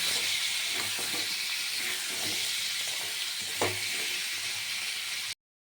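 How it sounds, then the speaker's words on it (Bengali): Potatoes fry in oil with turmeric and salt, a moderately quiet, continuous sizzle with faint stirring knocks, ending abruptly. "এর মধ্যে আমি অল্প হলুদ দেব আর অল্প নুন দেব, দিয়ে আরেকটু ভালো করে ভেজে নেব"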